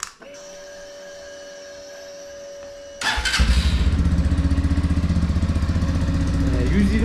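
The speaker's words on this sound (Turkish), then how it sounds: "125 cc 4 zamanlı bir motosiklet arkadaşlar." A Mondial RX1i Evo 125cc four-stroke motorcycle engine cranks over and catches, then settles into a loud, steady four-stroke idle close by, with a faint hum before it starts.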